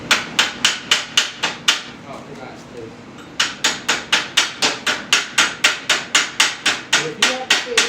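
A hammer beats a poor weld off cold metal in a steady run of loud, sharp metallic strikes. A brief pause breaks the rhythm, then about twenty more evenly spaced blows follow.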